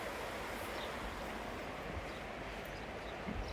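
A river in Selkirk rushing steadily, a dense, even broadband wash of flowing water close by, constant in level throughout with no voices.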